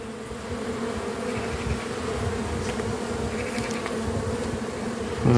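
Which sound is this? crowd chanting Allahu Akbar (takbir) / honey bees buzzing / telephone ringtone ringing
honey bees buzzing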